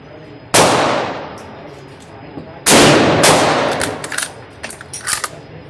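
Two loud, sharp reports from a 1935 M91 Carcano long rifle firing .264 reloads outdoors, a couple of seconds apart, each trailing off in a ringing decay, followed by smaller metallic clicks and clatter.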